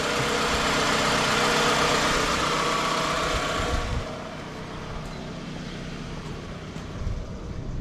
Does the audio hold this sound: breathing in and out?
no